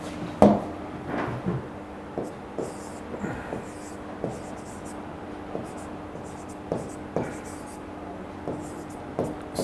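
Chalk or marker strokes on a classroom board during a biology lesson on the human digestive system, a series of short scratchy taps and scrawls spread through the clip, close and moderate, with a teacher's voice faintly present.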